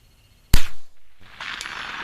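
One loud, sharp rifle shot from a Savage Mk II FV-SR, fired at a 200-yard target, cracks close by and decays quickly, followed by low outdoor background noise.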